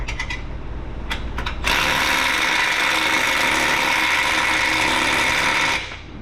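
A ratchet wrench clicks steadily while tightening bolts on a stainless steel X-pipe exhaust of a Ford Mustang with the 4.6 SOHC engine, a few separate clicks followed by a long, loud, continuous run of ratcheting up close.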